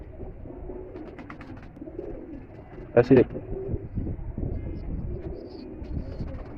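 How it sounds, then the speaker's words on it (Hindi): Pigeons, including a zarkan-eyed pigeon in a Lahore loft, coo softly amid steady background murmur, with a brief louder flutter of calls near the middle while someone talks over them. "ये कितना खूबसूरत कबूतर है माशाल्लाह"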